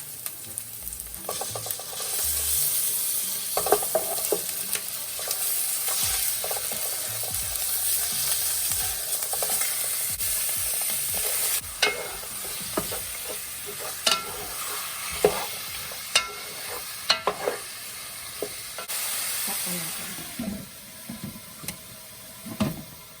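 Oxtail sizzles and fries steadily in a pan while being stirred, with a constant hiss broken by scattered scraping and clinking knocks from the stirring, close and continuous.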